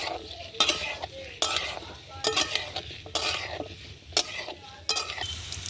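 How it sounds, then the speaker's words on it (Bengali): Fresh papaya pieces fry on low heat in a pan, a steady soft sizzle broken by repeated stirring scrapes and clinks about once a second, close and fairly loud. "পেঁপেটা আমি এভাবে কেটেছি, আর লো করে লাল লাল করে ভেজে নেব।"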